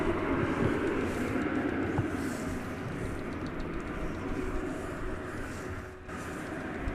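A jet takes off at DFW Airport, its engines making a steady, broad roar heard from a distance that holds at a constant level for several seconds.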